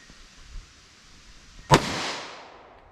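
A single sharp, loud .40 S&W pistol shot from a 5-inch barrel is fired over a chronograph outdoors, its report ringing out and decaying with a trailing echo after a quiet lead-in.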